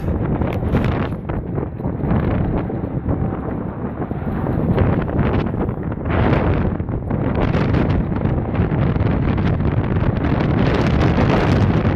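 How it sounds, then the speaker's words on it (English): Loud wind buffets the microphone during an outdoor ride on a Swagtron T6 off-road hoverboard, in heavy rumbling gusts, roaring continuously with brief dips and surges. "Oh boy, is it windy."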